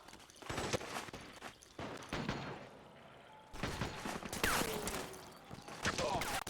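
Bursts of gunfire in the video game Metal Gear Solid 4: Guns of the Patriots, with rapid shots and thumps in a battle scene and game characters shouting over the firing.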